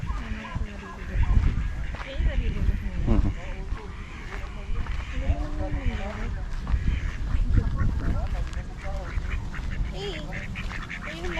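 Turkeys in a cage at a nature sanctuary in Silang, Cavite, give repeated warbling calls amid a noisy outdoor scene, while people talk nearby throughout.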